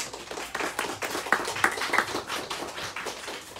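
Audience applause for performers at a live music school recital, a steady wash of many hands clapping close and fairly loud, with a few sharper individual claps standing out.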